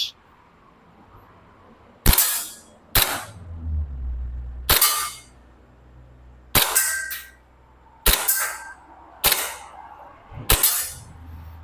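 Gas airsoft pistols, an M1911 and a Hi-Capa, fire at targets ten metres away, giving seven sharp, loud cracks spaced about a second apart, with quiet pauses between shots.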